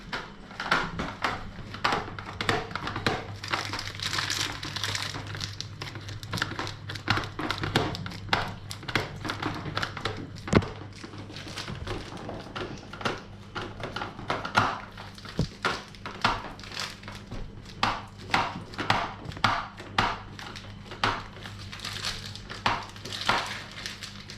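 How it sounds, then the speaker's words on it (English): A block of cheese being grated by hand in a kitchen, with a long run of steady scraping and rasping strokes up close, broken by small taps and knocks against the grater or bowl, without talk. "So I keep grinding this cheese"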